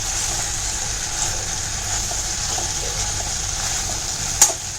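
Phondashi bhaji being stirred in a pan: a steady soft sizzle with faint spoon scrapes throughout and one sharp clink near the end.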